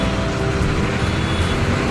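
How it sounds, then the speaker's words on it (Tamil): Steady road noise of a bus going by on a road near a bridge in Kerala, a continuous broadband engine and tyre rumble with no clear rise or fall, heard close. "பஸ்ஸு போயிட்டுருக்கு."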